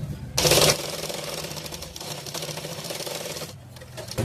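A sewing machine stitches folded blouse fabric, opening with a sharp, loud burst and then running in a steady, rapid, close mechanical chatter for several seconds before slowing near the end.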